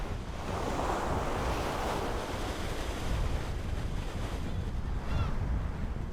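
Rough winter sea off the Yeongdeok coast during a snow crab fishing trip, heavy waves surging and roaring continuously while strong wind buffets the microphone, loud and unbroken throughout.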